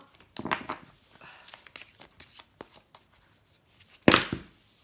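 Tarot cards are shuffled by hand in a series of soft, quick riffles and slides. The irregular bursts are close and fairly quiet, ending in one sharper flurry near the end, with no talking.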